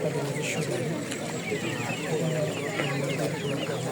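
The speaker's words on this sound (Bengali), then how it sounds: "এই যে মুরগি দেখো" Chickens cluck and chatter steadily at a weekly village market in Romania, close by and moderately loud, with people talking over the busy birds.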